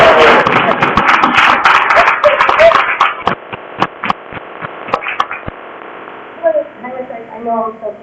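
Scattered clapping from a small group that thins out into a few isolated claps, with voices chattering over it and faint chirps near the end.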